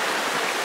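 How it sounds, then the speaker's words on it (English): Water trickles in a small stream, making a steady, even rush of splashing that fills the short moment with no pauses and no voices. "Just like the water trickling down here, it flows"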